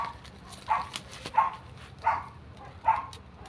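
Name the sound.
dog barking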